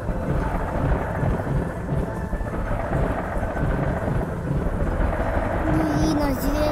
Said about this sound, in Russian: Давайте сюда запустим молнию.